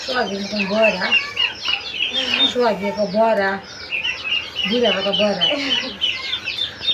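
A desi hen of about one kilogram clucks repeatedly and nearby in uneven bursts, with higher chirps and squawks mixed in throughout.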